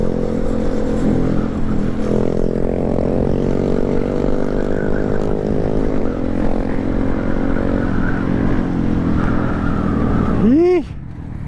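Grom mini bike motorcycles ride together in a steady, loud engine drone with shifting revs and overlapping exhausts, and a brief rising whine from a passing bike near the end.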